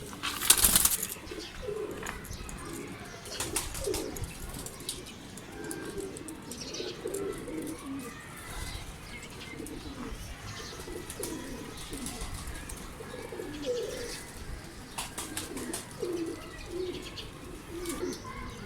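Soft coos of Kamagar pigeons repeat through a steady, busy loft background, with occasional chirps and a brief burst of wing flapping near the start.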